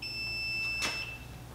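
An alarm sounds from a sprinkler monitoring system panel as a steady, high electronic tone with a brief louder burst partway through.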